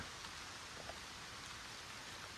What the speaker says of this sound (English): it's raining out there, and I don't have a single drop hitting me anywhere